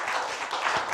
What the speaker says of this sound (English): let's give a round of applause for tonight's contestants